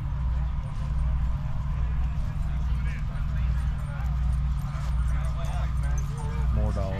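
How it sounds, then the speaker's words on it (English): Dogs bark at an outdoor overland vehicle expo, short yips and barks over a constant crowd murmur and engine-like rumble, with people talking nearby. "More dogs."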